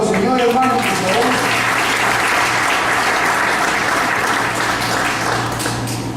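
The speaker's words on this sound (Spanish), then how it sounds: "Denle un aplauso al Señor, hermano, por favor." A church congregation applauds loudly and steadily, dense clapping filling the room for several seconds and tapering slightly at the end, with a low hum and voices underneath.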